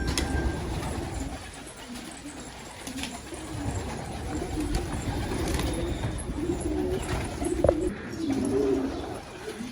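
Ink pigeons cooing near rooftops, low throaty coos recurring in soft phrases against steady outdoor background noise.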